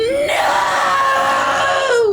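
A voice imitating a horrifying scream: one loud, sustained, high wailing shriek that rises, holds for about two seconds and tails off.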